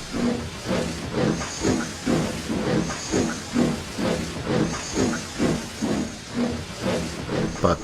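Steam engine chuffing rhythmically with bursts of hissing steam as it slows, each puff loud and close in an even, repeating beat, with no voices.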